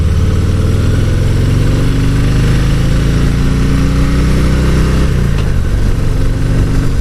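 A 2018 Harley-Davidson Heritage 114 motorcycle on the road, with a loud, steady low engine rumble and drone throughout that shifts and eases slightly near the end.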